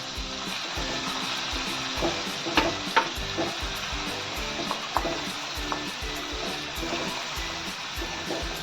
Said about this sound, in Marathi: मिक्सरमध्ये जे खोबरं आलं लस आलं आणि लसूण जे बारीक करून घेतलेलं आहे ते पहिलं फ्राय करून घेणार आहोत